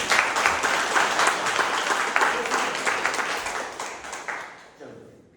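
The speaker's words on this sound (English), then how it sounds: "So every time we clap, everybody will clap." Audience applause at a Toastmasters club meeting, a dense, steady wash of many hands clapping that holds for several seconds, then thins into a few scattered claps and fades out.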